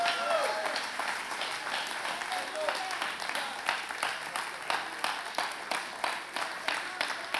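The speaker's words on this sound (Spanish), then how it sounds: "Vamos, aplaude a Dios." Church congregation applauding steadily throughout, with crowd voices and shouts mixed into the clapping, which grows more distinctly rhythmic toward the end, heard from a moderate distance.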